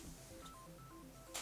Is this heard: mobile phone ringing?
yes